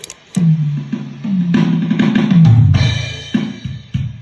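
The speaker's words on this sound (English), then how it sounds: "Then I've got a Beat Buddy drum machine," A Beat Buddy drum machine plays a rhythmic beat of punchy low kicks and snappy hits, looping steadily and fairly loud.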